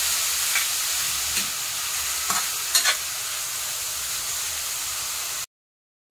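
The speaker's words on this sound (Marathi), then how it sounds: "त्याच तुपामध्ये आपल्याला आता हे किसलेलं गाजर हे टाकायचं आहे। चांगलं तुपामध्ये फ्राय करायचं चांगलं।" Grated carrot sizzles steadily in hot ghee, a dense, even frying hiss with a few faint stirring scrapes, then the sound cuts off abruptly near the end.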